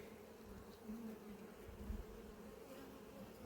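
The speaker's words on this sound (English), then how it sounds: "So there's a couple of thousand bees there." Honey bees swarm over a brood frame in an apiary, a steady low buzzing hum of a couple of thousand insects, close and continuous with slight swells in loudness.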